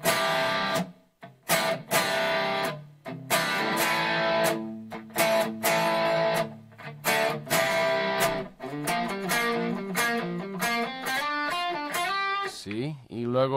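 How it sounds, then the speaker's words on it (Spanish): An Enya Nova Go Sonic guitar on a high-gain setting with a noise gate plays distorted riffs and chords, each phrase cutting off sharply into near silence between bursts, the gated notes close and fairly loud. "Creo que esto es alta ganancia con puerta de ruido."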